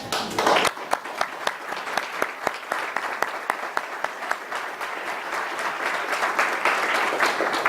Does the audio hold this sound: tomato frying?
no